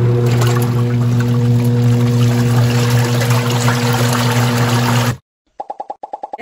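A washing machine is switched on and fills with water, giving a loud steady rush over a low motor hum for about five seconds, then it cuts out, followed by a short run of rapid rhythmic clicks.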